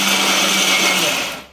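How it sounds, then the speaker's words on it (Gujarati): An electric mixer grinder whirring loudly as it grinds fried muthiya into coarse churma for laddoos, a steady high-pitched motor drone that cuts off and winds down at the end. "એટલે ચૂરમું મિક્સરમાં હું કરું છું"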